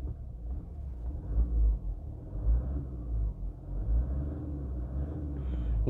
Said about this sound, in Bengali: এবার আমি আপনাদেরকে যে গাড়িটির ইঞ্জিন সাউন্ডটা একটু শোনাবো